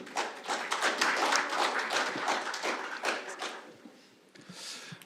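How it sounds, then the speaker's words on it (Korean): Applause from an audience at a political debate session, lawmakers clapping warmly for a congratulatory speech; dense, sustained clapping fills the room loudly for about four seconds, then thins and fades. "뜨거운 박수 부탁드리겠습니다"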